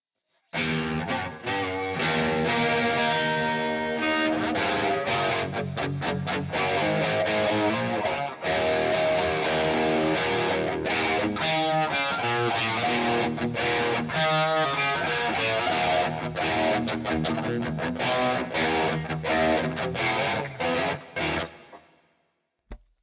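A Stratocaster electric guitar through a distortion effect plays chords and riffs continuously for about twenty seconds, loud and saturated, then rings out and fades.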